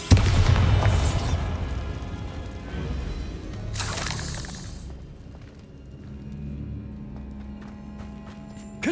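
A Bombarda spell blast in the video game Hogwarts Legacy: a loud booming explosion at the start, a second crashing burst a few seconds later, then a rumbling decay with faint debris.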